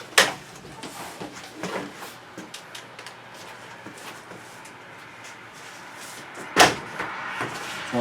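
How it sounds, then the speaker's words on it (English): Vinyl double-hung window lower sash being unclipped and lifted out, giving a few sharp plastic clunks and knocks, one loud thump near the end, over a steady low room rumble with no talk. "now I'm going to remove this lower part of the double hung."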